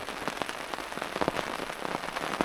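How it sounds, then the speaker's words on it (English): Steady rain pattering on a surface at a motorcycle campsite in Leadville, Colorado, a dense continuous hiss with close, irregular drops tapping throughout, no voices. "it's going to be raining probably another 2 or 3 hours"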